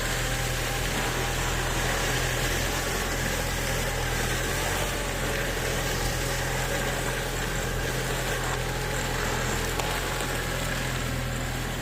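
A Kubota M6040 tractor engine runs steadily close by while ploughing soil, a continuous low rumbling drone with constant vibration and no speech.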